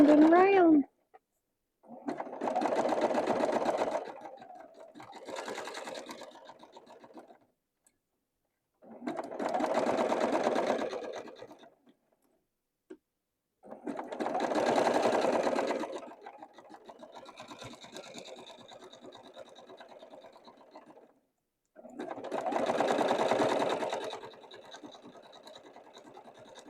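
A sewing machine stitching fabric around and around to make lollipop ornaments for a Christmas tree runs in five separate bursts of steady, close whirring, with short quiet pauses between them.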